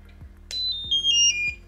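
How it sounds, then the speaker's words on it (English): Thermal hair brush signalling it has heated up, a clean electronic beep tone in a short run of stepped pitches, loud and close, with low clicks underneath and no talk. "it's already hot, so it beeps"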